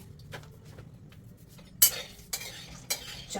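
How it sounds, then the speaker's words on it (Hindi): Roasted peanuts being stirred in a pan, with a scraping, rustling stir under a faint sizzle and a few sharp clinks of the spatula against the metal, close and steady with no talk. "इसमें यही मेन एक चीज़ है कि इनको कंटिन्यूसली चलाते रहना"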